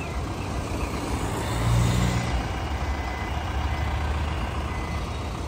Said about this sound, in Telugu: ఇక్కడ ట్రాఫిక్ అయితే చాలా అయితే ఫుల్గా ఉంది